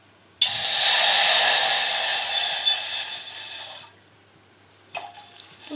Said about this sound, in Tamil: இப்போ ஒரு டம்ளர் தண்ணி எடுத்து ஊற்றிக்கலாம்.